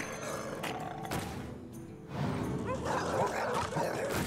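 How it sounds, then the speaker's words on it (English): Dogs bark and growl in the Hearthstone card game, a burst of game sound effects that grows louder partway through over a busy, layered mix. "Oh, okay, dogs. Get him."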